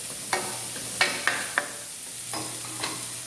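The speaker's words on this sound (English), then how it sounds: "I'm gonna let this saute for about 5 minutes, then I'm gonna add my curry mix to this." Hassa fish curry ingredients sautéing in a pot, a soft steady sizzle with several distinct stirring scrapes and clinks spaced irregularly, close by and alone with no talk.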